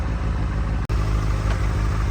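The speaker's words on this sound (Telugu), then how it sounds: "With DB killer barrel exhaust. చాలా సాఫ్ట్గా వస్తుంది." A Benelli TNT 600i inline-four motorcycle idling through a barrel exhaust fitted with a dB killer: a loud, steady, close low engine hum with one brief dropout partway through.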